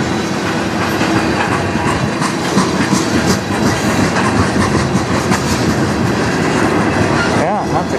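A short CN freight train with two locomotives rumbles eastbound past up close, steady clickety-clack of wheels on rails, loud and continuous, with a brief squeal near the end.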